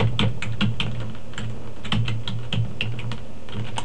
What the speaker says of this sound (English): And then we have the keyboard.